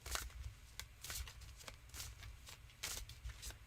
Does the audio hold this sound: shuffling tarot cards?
yes